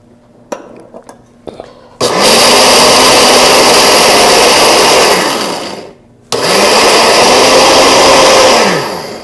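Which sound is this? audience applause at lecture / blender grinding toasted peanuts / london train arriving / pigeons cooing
blender grinding toasted peanuts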